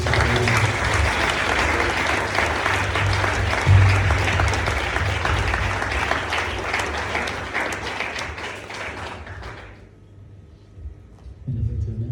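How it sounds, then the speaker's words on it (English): An audience at an Orthodox Q&A gathering gives a long round of applause, dense and steady, then fades out near the end as a room murmur returns. "Can you give a round of applause, please?"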